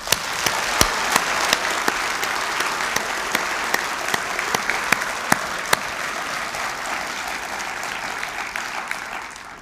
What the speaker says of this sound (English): I'd like us all collectively to give a big round of applause to these wonderful students who graduate today.